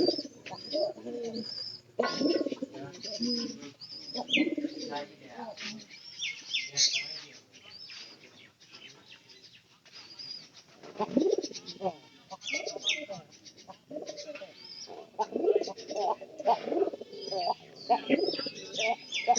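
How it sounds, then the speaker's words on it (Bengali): A pigeon with a hoarse, thick-sounding voice gives repeated low coos among other birds chirping nearby, while a person talks at intervals throughout. "এরপর এই পায়রাটার ডাক জানি কিরকম মনে হইতেছে"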